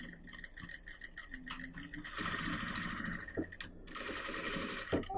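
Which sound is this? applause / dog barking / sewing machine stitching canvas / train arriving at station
sewing machine stitching canvas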